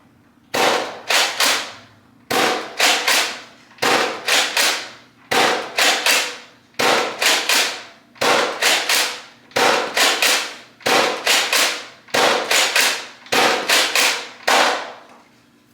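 Nerf Rival blaster firing foam rounds: sharp, loud snapping shots in quick bursts of three to four, with short pauses between bursts, repeating about ten times, close and without talk.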